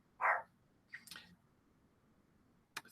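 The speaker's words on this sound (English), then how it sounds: "my dog's barking" A pet dog gives one short, clear bark, then a couple of fainter yips, with a brief sharp sound at the end, all in a quiet room.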